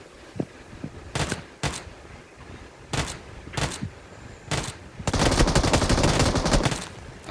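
Uzi submachine gun fire in an online shooter video game, heard as several short separate bursts followed by a longer sustained volley near the end, loud and close.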